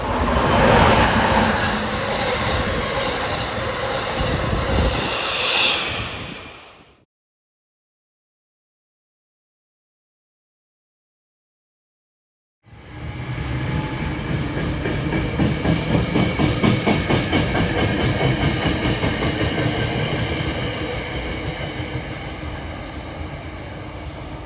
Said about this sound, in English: that Amtrak that passed by from Harrisburg to New York was train 652